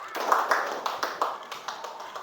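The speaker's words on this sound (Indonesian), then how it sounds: "Tepuk pramuka." A classroom of students doing the Indonesian scout clap, a quick rhythmic pattern of about ten group claps in close succession, fairly soft in the room.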